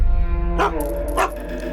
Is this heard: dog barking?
yes